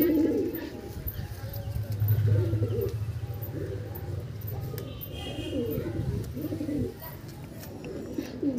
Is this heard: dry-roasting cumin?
no